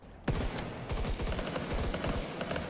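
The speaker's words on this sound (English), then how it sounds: "Gunshots." Rapid bursts of video game gunfire crackle continuously, loud and close, with overlapping shots and rattling automatic fire throughout, on a PC with an Intel Arc B580 GPU and Intel Core Ultra 5 CPU.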